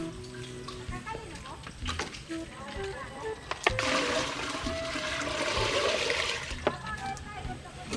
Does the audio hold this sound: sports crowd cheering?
no